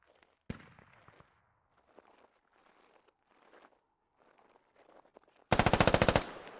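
Automatic gunfire in a military video game: a sharp opening shot, then scattered quieter impacts and faint distant fire, ending in a loud rapid burst of repeated shots near the close.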